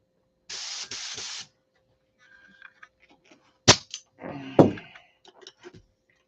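A paint spray gun blasts in a short hissing burst while being cleaned, followed by sharper pops, sputters and a rougher spitting spray, close and alone.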